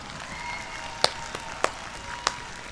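Sparse, polite hand claps from a single person, three or four sharp isolated claps spaced about half a second apart over a quiet room background, no talking.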